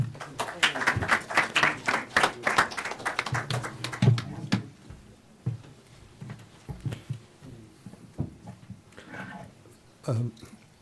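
A crowd claps for a few seconds, fading out as a voice begins talking, with scattered taps and noises afterward.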